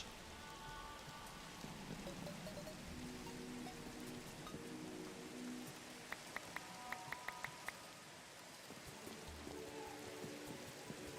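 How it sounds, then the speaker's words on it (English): Steady rain falling in a modded Minecraft world, a continuous dense hiss of drops with a quick run of light ticks partway through, heard alone without talk. "Oh yeah, wait. It's raining."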